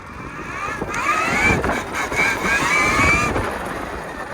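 A KTM Freeride electric trike accelerates hard in mode 2 for a wheelie, its motor whine climbing in pitch in two rising surges over wind buffeting on the microphone, then easing off.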